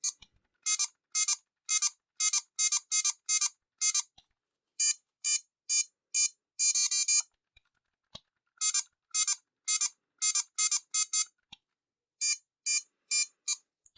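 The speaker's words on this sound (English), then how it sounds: "the constant beeping... I think I'm going deaf listening to this game" Shrill electronic beeps from a Transformers G2 Tiger Electronics LCD handheld game, repeating in rapid bursts and runs with short pauses between groups, loud and close with no voices.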